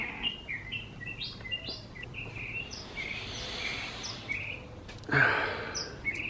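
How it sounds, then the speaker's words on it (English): Southern mockingbird singing in the morning, a string of varied short chirps and whistled phrases at moderate distance, faint over soft background hiss with a brief louder rustle near the end. "So that is a southern mockingbird, and he has been there for the last 2 weeks or so, every day in the morning and singing his song"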